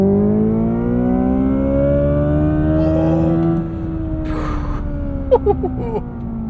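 A 2025 Hyundai Ioniq 5 N, a 641 hp EV, accelerating hard with its NGB boost engaged. A loud, steady layered drone rises in pitch, eases off partway through, and ends with a few sharp clicks.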